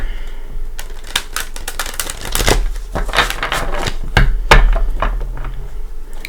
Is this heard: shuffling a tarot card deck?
yes